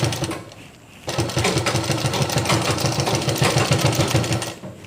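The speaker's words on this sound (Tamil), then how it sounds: "இப்போ இதை நான் மேலே வச்சு தைச்சி காட்டுறேன்" A sewing machine stitches a nighty seam, its fast, even needle chatter starting after a brief quieter moment and running loud and close without a break.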